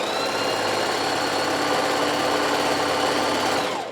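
A sewing machine stitches a hem about 5/8 inch in from the fabric edge, its motor whirring fast and steady throughout with no talk, then winding down at the very end.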